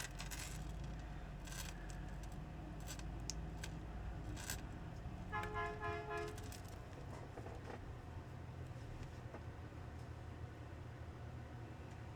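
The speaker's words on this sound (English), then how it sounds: "The trash men are honking." A garbage truck's horn honks outside, a short tonal blast in the middle over steady low traffic rumble and scattered clicks and clatter, heard from a distance with no talk.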